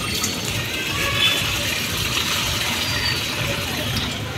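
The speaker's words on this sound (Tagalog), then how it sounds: "Lagyan natin ng tubig." Water pours steadily into a 2-liter pitcher, a continuous close splashing and filling sound over a few seconds with no talking.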